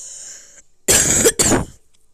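A sick person with a sore throat coughs twice in quick succession, two harsh, close, loud bursts after a brief faint tone, then quiet.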